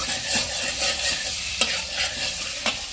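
Butter sizzles steadily in a pan with a soft, close frying hiss, broken by a few brief stirring scrapes.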